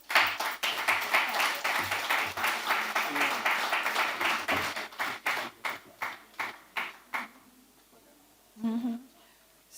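An audience claps for a speaker at an event, with rhythmic, fairly close claps that grow sparse and fade out, followed by a short burst of voice.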